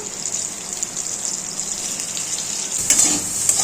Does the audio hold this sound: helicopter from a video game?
no